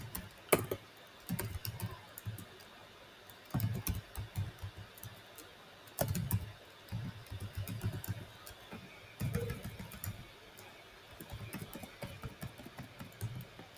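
Someone types a name on a computer keyboard in short irregular bursts of close, soft clicks separated by brief pauses, running steadily across the whole stretch with no talk over it.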